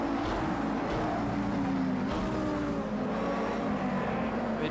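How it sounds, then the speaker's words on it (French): Race car engine in Project CARS 2, a steady loud drone with shifting pitch as revs rise and fall, running continuously without pause and with no voices. "Avec le plaisir que procure cette voiture et le son de son moteur"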